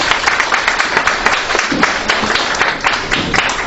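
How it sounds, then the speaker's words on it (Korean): Applause from a forum audience for the panelists of a youth discussion on local autonomy and sustainability, steady dense clapping from many hands filling the room for the whole stretch. "일부 패널님 다시 한번 큰 박수 부탁드립니다."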